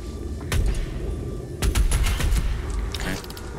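The heavy cannon in the video game Doom Eternal fires in short bursts of sharp gunshots. The bursts are separated by brief pauses, with mechanical clanks between them.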